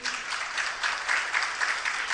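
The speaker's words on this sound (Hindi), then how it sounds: "ताली बज रही कि नहीं?" Audience applause at a Jain religious discourse, a steady dense wash of many hands clapping together for about two seconds, moderately loud and sustained with no voices over it.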